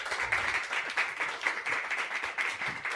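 A live audience applauds, a steady stretch of clapping from many people at moderate loudness, close and continuous without a clear break.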